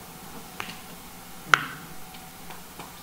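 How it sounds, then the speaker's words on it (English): One crisp, close finger snap sounds in a quiet room, with a few faint ticks around it. "I'm going to snap my fingers"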